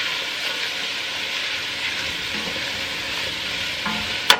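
Chopped onions sizzle and fry steadily in a hot pan for barbacoa, with a spatula or tongs scraping and stirring up the browned bits from the bottom; a brief sharp clank near the end.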